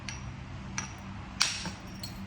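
A hammer strikes Tallahatta quartzite while it is thinned by flintknapping, producing four or five sharp, glassy clicks spaced irregularly over a low background hum, one tap noticeably louder than the rest.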